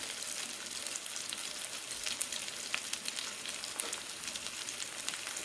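Chicken cutlets with a cheese coating fry in oil in a pan, giving a steady, fairly quiet crackling sizzle with a few small pops and no talking.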